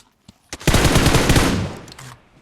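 Rapid automatic gunfire in a first-person shooter video game, one loud burst of fast repeated shots lasting about a second before trailing off.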